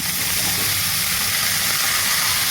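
Whole cumin seeds tempering in hot oil for small fish with onion greens, a loud, steady close sizzle and crackle with no talk.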